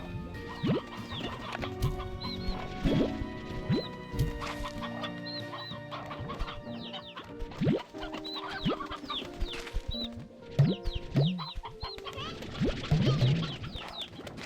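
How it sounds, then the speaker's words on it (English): A crowded coop of hens and roosters clucks and squawks continuously, with rapid overlapping calls, sharp cries and scuffling movement nearby. "Trying to kind of get rid of these chickens here. Not gonna lie, got a lot of roosters in here."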